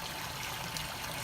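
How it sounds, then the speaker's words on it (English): Water flowing steadily in an aquascape bowl, a continuous soft trickling wash that fills the short clip at low level with no talk over it. "We got water flowing."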